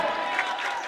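A gym crowd at a girls' high school basketball sectional final roars and applauds in a brief, loud, steady wash of cheering.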